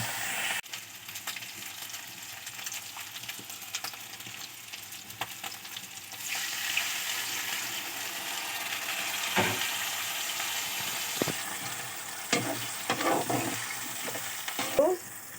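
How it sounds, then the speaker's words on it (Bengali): Ginger, garlic and onion frying lightly in a pan, a soft steady sizzle close by with occasional stirring clinks and scrapes, fairly quiet and with no talk over it. "আমি হালকা ভেজে নিচ্ছি"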